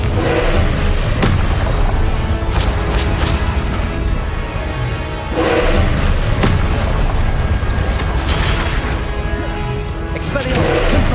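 Booming blasting-spell explosions in the Hogwarts Legacy video game, several heavy bursts spaced a few seconds apart over a loud, constant backdrop of combat noise.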